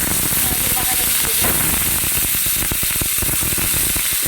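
Onion frying in hot oil with whole spices for an egg curry, a loud, dense, crackling sizzle close by, with a stirring spoon scraping in the pan now and then.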